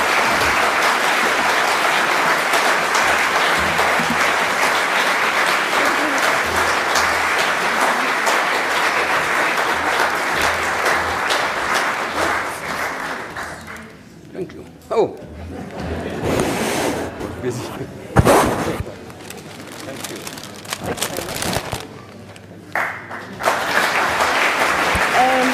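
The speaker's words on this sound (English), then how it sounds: "I would like you to join me in a big round of applause." An audience after a lecture breaks into sustained, loud applause that gradually thins into scattered clapping, with a few voices heard near the end.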